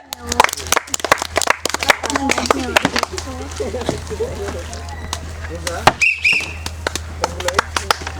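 Audience clapping during a fun yogurt eating competition at a junior games event, scattered sharp claps in irregular bursts over a steady low hum, with voices talking throughout.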